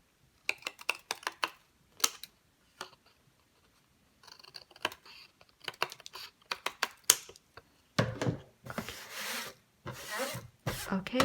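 Scissors snip and rustle through the sides of a paper gift bag, giving a series of short crisp cuts and paper crinkles, close and fairly quiet, with a louder burst of rustling near the end.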